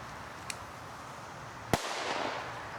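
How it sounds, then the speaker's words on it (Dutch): A small bang from a firework, then a louder sharp crack followed by a few seconds of crackling fizz, with no voices. "En gewoon doorstoken, het hele pakje leegstoken."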